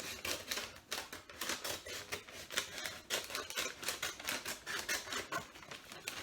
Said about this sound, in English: you're going to take your scissors and you're going to just cut along one of the edges here like this